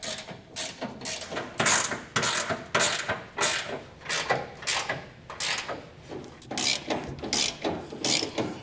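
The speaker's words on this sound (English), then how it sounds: "we're going to be doing the same process with our torque wrench" A torque wrench ratchets steadily while tightening the bolts on the side rails of a fifth wheel trailer hitch base rail kit on a 2015 Chevrolet truck, with sharp rhythmic clicks in short bursts and brief pauses between strokes.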